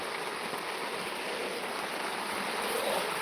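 Steady rain pours down in Chavand, Gujarat, in a dense, even hiss, with a broad wash of drops holding at constant loudness throughout.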